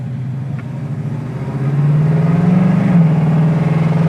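A 1967 Pontiac Firebird convertible's engine idles with a low, even burble, then revs up and holds at a higher, louder drone, heard close and with no talk.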